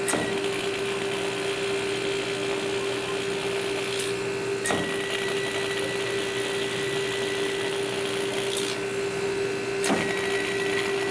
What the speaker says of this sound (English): We're now going to cut the pattern that we've just seen.